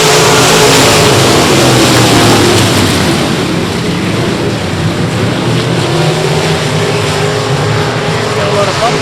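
Race cars roaring around South Texas Speedway, a loud continuous wash of engines rising and falling as the pack passes close, with an announcer talking over it.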